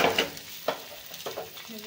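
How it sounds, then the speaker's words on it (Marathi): Boiled eggs fry in oil in a pan for dhaba-style egg curry, giving a soft sizzle broken by a few brief scraping stirs, close and fairly quiet. "आता एवढं टाकून आपल्याला अंडे छान असं फ्राय करून घ्यायचे."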